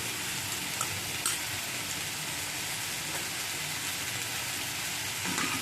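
Cumin powder frying in a pan for a Bengali stalk-and-vegetable dish gives a steady, even sizzle with faint stirring scrapes, close and unbroken, with no voices.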